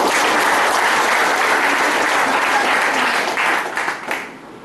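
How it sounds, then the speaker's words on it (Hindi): A seminar audience in Kondagaon, Chhattisgarh bursts into loud, dense applause that holds steady, then thins into scattered claps and fades out. "जोरदार ताली"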